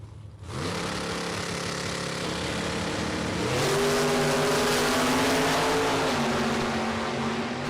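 Drag race cars, including a 1941 Willys, launch down the strip at a Super Pro event, engines rising from idle into a loud, sustained roar that climbs in pitch and holds, with a second engine layered in.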